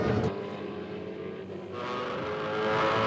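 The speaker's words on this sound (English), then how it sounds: "Notice Mark just hanging on to 5th gear that time, not briefly grabbing 6th" A V8 Supercar's racing engine roars steadily at the 2006 Tasmania Challenge, a sustained loud drone with a slight swell toward the end and no gear change heard.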